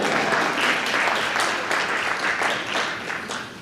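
An audience at a school board of education meeting claps in a sustained, even burst of applause, moderately loud and without voices over it.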